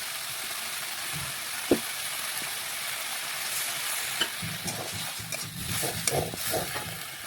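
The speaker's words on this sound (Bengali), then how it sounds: "একটু সামান্য জল দিলাম, দিয়ে ভালোভাবে মিশিয়ে মশলাটা একটু ভেজে নিচ্ছি।" Masala with garlic paste and a splash of water fries in a pan under a soft, continuous sizzle, with scattered scraping clicks as it is stirred, and no voices.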